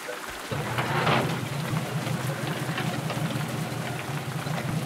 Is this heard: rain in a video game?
yes